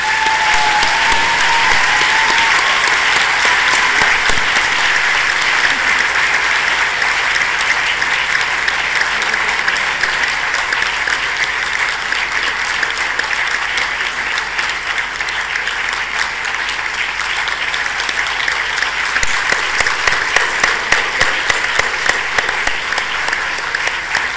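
Sustained applause from an audience at the Partners Forum 2018 closing ceremony in Vigyan Bhawan hall, a steady dense wash of clapping lasting throughout, loud and even with slight swells near the end.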